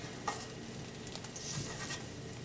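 Eggs fry in a pan with a steady, faint sizzle and a few light scraping touches, nearby, with no talking.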